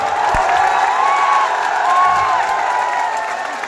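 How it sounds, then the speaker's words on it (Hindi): Crowd cheering and clapping at a 2024 political rally in Bengal, a loud sustained wash of many voices and hands close by, steady throughout with a brief surge near the middle. "इतनी कमजोर ताली से काम नहीं चलेगा।"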